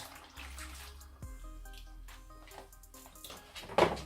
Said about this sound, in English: I'm just going to fill up these passatas with water so you get the last of the tomato juice